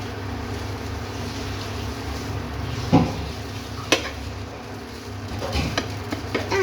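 Vegetable noodles are stirred and tossed in a pan, with a soft continuous sizzle and a couple of sharp spatula scrapes against the metal close by, no voices.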